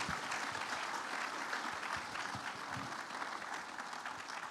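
An audience claps for President Clinton at a discussion of the opioid crisis, a thick, even wave of applause that holds steady and eases slightly toward the end.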